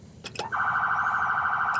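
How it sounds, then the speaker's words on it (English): A 2018 Chevy Tahoe EMS squad vehicle's Howler siren system gives a few short chirps, then settles into a loud, steady, sustained wail at close range. "We have a Howler on this vehicle, and the Howler and the siren system is also tied into park."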